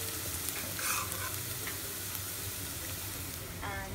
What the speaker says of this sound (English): I'm gonna saute it on low flame for 4-5 minutes